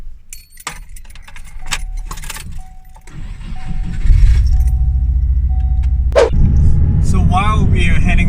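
Keys jingle and a 2000 Subaru Impreza 2.5RS cranks and fires up, settling into a steady close idle before moving off, with a person speaking briefly near the end.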